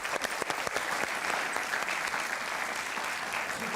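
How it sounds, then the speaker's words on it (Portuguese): Studio audience on a 1993 Portuguese TV talk show applauding guest João Raul, a dense, continuous round of clapping with a few crisp claps at the start, steady and fairly loud, no speech over it. "Então ninguém dá palmas ao João Raul."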